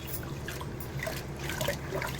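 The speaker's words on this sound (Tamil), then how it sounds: "நல்லா தண்ணி ஊற்றி தாராளமாக தண்ணி ஊற்றிக்கோங்க." Water poured over ration-shop rice to soak it for idli, a faint, steady trickle with light splashes running throughout, no voices.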